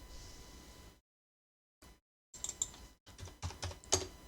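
Computer keyboard keys clack in quick, quiet bursts during Photoshop work, broken by a short silence, with a firmer final press like the Enter key.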